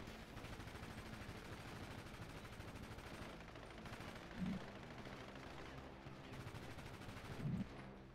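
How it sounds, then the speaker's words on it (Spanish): Gunfire in Grand Theft Auto V: a steady loud rattle of automatic shots running throughout, with two louder bursts standing out partway through and near the end. "¿Quién está disparando"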